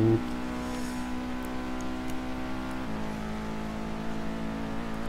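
Motorcycle engine droning steadily while cruising at night in the racing game Test Drive Unlimited 2, a loud, even hum with a sustained tone that shifts slightly in pitch partway through.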